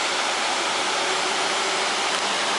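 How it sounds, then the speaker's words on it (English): Swallow Falls waterfall in the Llugwy valley pours in a steady, dense broadband roar of falling water, close and constant throughout with no voices. "sit and meditate to the sound of falling water"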